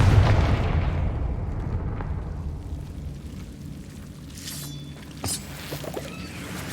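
Confringo fire-blast spell exploding in Hogwarts Legacy, starting with a heavy, rumbling boom that decays slowly, followed by lighter crackles and a short pop, with no one talking.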